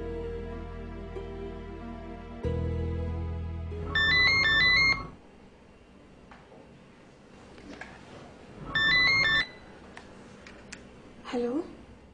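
A mobile phone ringtone for an incoming call plays in two short melodic bursts separated by quiet, heard over faint background sounds and some low tonal music at the start.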